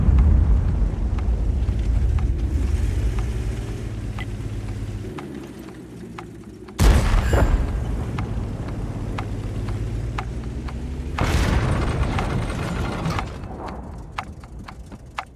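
Tank cannon blasts in a World of Tanks match involving a Tortoise and an Object 704: two sharp, loud broadband booms about four seconds apart, each trailing into rumbling engine and track noise, with smaller metallic clanks scattered throughout.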